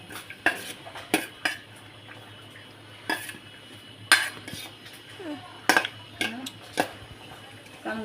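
Spoon clinking and scraping against a bowl while vegetable salad is mixed, with a series of sharp, irregular taps and stirring knocks at close range over a quiet background.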